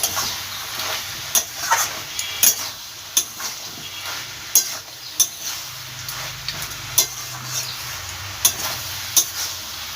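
Fried shrimp and bori are stirred through cauliflower stems in a kadai-style wok, with regular scraping strokes of the spatula repeating over a steady sizzle, and no voices.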